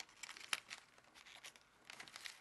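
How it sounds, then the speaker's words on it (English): Paper folded by hand into an origami heart box, heard up close as soft crinkles and crisp creasing snaps, with one sharp crackle near the start and a few quieter rustles after it. "let's take this flap and fold it up"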